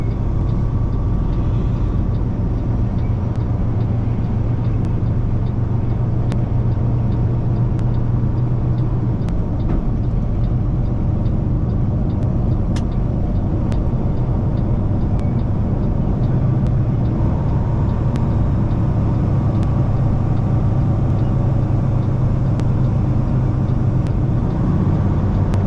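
A car drives down Cabbage Mountain in Oregon, heard from inside as a constant loud low engine and road rumble with steady hum and occasional faint ticks, no break for the whole stretch.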